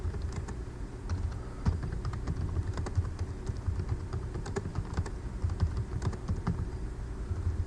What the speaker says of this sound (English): you can start typing down in here with the on-screen keyboard